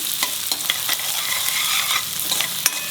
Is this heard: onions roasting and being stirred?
yes